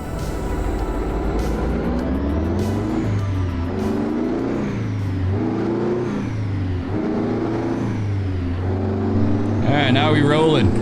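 American Truck Simulator truck driving, a steady mid-pitched diesel engine drone that rises and falls through repeated gear shifts and revs, with a voice talking over it throughout.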